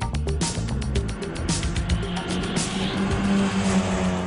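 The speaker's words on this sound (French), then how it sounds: "Aussi joli à regarder qu'à entendre, le moteur de la Golf envoûte l'essence." Volkswagen Golf GTI with a 1.6-litre 136-horsepower engine under a 16-valve Oettinger cylinder head, running loud and close, its revs rising and falling with a steady buzzing tone and some tire noise.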